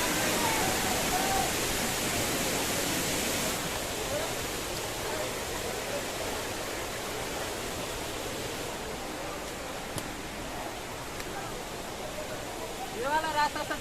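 Bijakasa waterfall in Bastar, Chhattisgarh, a steady broadband rush of falling water, loud and continuous throughout, with faint voices now and then underneath.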